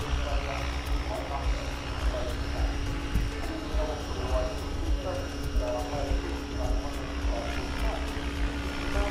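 A Woodspring model aircraft performs rapid aerobatic manoeuvres at an outdoor wing show, its engine a continuous buzzing drone that holds steady throughout with a faint ambient background.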